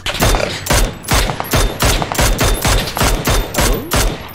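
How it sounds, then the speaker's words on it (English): Gunfire in the PUBG video game, a rapid series of about ten loud, close shots at a steady rhythm roughly every half second, with no talk over it. "Wow, nice shot, Prima."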